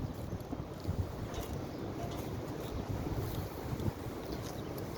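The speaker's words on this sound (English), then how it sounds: "pretty windy." Strong wind blows steadily across an outdoor field during a morning graze, roaring and buffeting the microphone in continuous gusts with no break.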